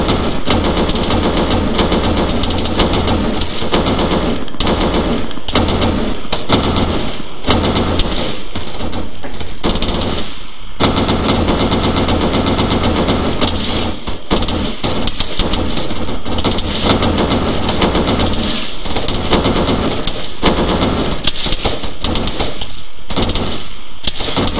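Sustained loud gunfire in the Arma military game, dense rapid machine-gun bursts and overlapping shots running continuously over a constant rumbling background, with no voices heard.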